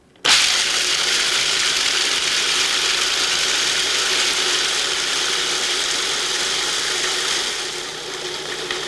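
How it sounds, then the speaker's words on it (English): Cuisinart DLC-7/DLC-8 series food processor with its metal blade chopping peanuts in a Lexan work bowl, a loud, steady rattling whir starting abruptly and running continuously, easing slightly near the end, with no talking. "Add the peanuts to the work bowl with the metal blade in place. Turn the machine on and watch."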